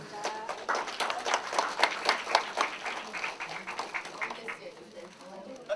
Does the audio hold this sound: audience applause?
yes